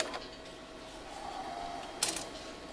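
Mechanical whirring and ratcheting of a cash machine counting out and dispensing 20 euros in notes, a steady low churn with a brief louder clack of notes near the end.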